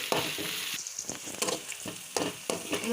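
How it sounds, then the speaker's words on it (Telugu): Chopped capsicum fries in a pan for pav bhaji, giving a close, busy sizzle broken by repeated scraping stirs, with no speech. "ఒక కప్పు క్యాప్సికమ్ నేను తీసుకున్న క్వాంటిటీకి ఒక క్యాప్సికమ్ అయితే సరిపోతుంది ఈ ఫ్రై ఇవ్వాలి"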